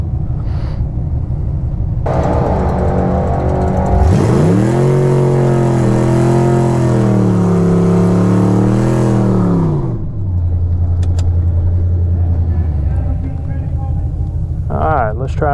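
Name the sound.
race car making a drag strip pass at Virginia Motorsports Park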